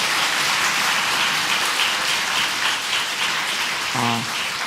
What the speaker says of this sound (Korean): 축복의 박수 한번 해주세요.